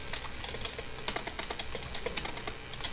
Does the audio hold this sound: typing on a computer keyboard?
yes